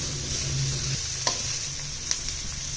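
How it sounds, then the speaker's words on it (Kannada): Onions fry with curry leaves in a pan on the stove, a steady soft sizzle with a couple of brief clinks of a spoon stirring against the pan. "ಈರುಳ್ಳಿ ಇವಾಗ ಸ್ವಲ್ಪ ಫ್ರೈ ಆಗಲಿ,"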